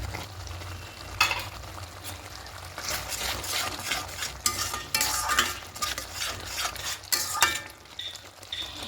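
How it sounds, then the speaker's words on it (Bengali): Potato and paneer masala with yogurt and capsicum being stirred and sautéed in a pan, with a steady close sizzle and repeated scraping strokes of a spoon against the metal. "এবার খুব ভালো করে সব কিছু কষিয়ে নেব।"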